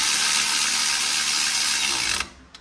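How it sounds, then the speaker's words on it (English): A ratchet wrench with a 13 mm socket clicks steadily while turning a fastener on a Cravenspeed short shifter being installed in an ND Miata, loud and close for about two seconds before stopping, with a faint click after. "I do know I need a 13 millimeter now, and so you use your 13 mil socket here"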